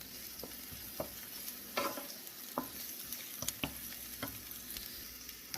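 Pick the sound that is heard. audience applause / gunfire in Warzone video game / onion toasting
onion toasting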